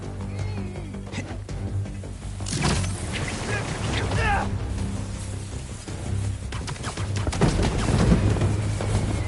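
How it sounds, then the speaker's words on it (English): Fireworks burst in the Spider-Man 2 video game, a run of booms and crackling pops spread across the clip over a low rumbling game backdrop, with a voice talking now and then. "Fireworks! They're lit."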